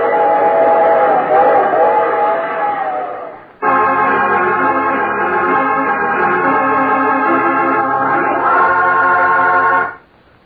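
Train sound effect in an old radio drama: a sustained, loud, tonal train whistle or horn with rumbling rail noise, broken by a brief pause and then continuing steadily.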